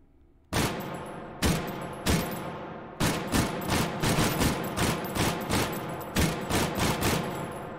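A Lewis Gun machine gun in the H3VR video game fires a few separated single shots, then a rapid, even burst of loud, sharp reports close by, with no talking.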